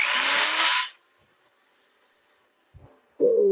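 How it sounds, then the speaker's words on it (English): Sander touching a wood-turned piece on a lathe gives a loud, broad rasping burst lasting about a second, then quiet, followed by a brief thump and a tonal motor hum starting near the end. "I'm just going to touch it with the sander again."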